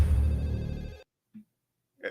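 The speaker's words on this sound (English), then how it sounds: "I heard the phone ring." A telephone rings in one loud sustained burst that cuts off abruptly, followed by near silence and a brief faint sound, heard in a Scream 7 trailer.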